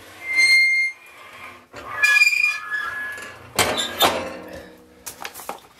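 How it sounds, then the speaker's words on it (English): Squeaky door on a hot tent at a wet, cold winter campsite, opening in several drawn-out high creaks and squeals separated by pauses, ending with thuds and rustling. "I think it's safe to say that I've got the squeakiest door in Canada."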